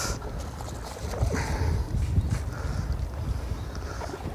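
Wind blows steadily across an open boat at sea during halfbeak fishing, a continuous low rumbling roar with gusty swells that hold throughout.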